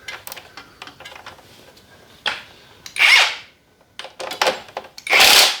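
Socket wrench being worked on a Honda CR85 two-stroke dirt bike, giving several bursts of quick ratcheting clicks and metallic scraping, with louder loose rattling near the middle and again at the end, up close and without talk.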